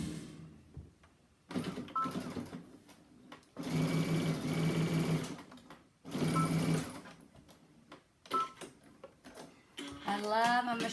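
A Brother sewing machine stitches lace onto a fabric bridal garter bag, running in several fast whirring bursts of a few seconds each, separated by pauses, close and moderately loud.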